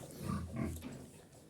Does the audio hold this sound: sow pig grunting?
yes